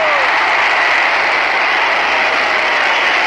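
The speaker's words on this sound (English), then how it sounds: "there you probably heard the roar of the crowd" A packed arena crowd at an ice hockey game roars after a goal, a loud, dense, sustained wall of cheering and applause that holds without break.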